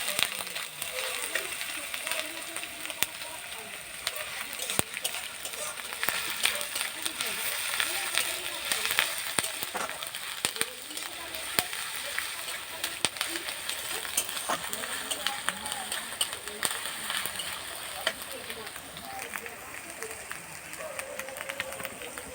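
Cauliflower frying in a pan with garlic paste and chili paste, a steady soft sizzle and crackle running throughout with scraping stir sounds, with talk over it.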